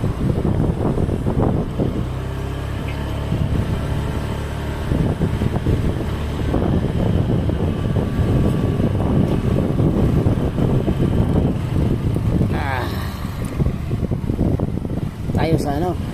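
Strong wind buffeting the microphone during a motorcycle ride along a seaside road, a constant loud low rumble and roar throughout, with talking heard over it.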